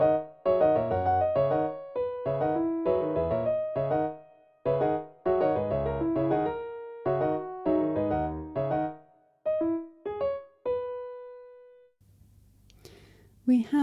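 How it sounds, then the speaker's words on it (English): Composed piece of music with chords and a bass line added beneath the melody, playing as clean, rhythmic phrases of stacked notes that end on a sustained tone, followed by a brief low hum. "I've then added some chords and a bass line. It now sounds like this."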